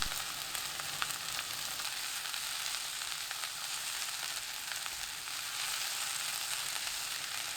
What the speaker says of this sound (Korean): 1분 30초 후 다진 마늘 1큰술, 시금치 넣고 1분 볶아주세요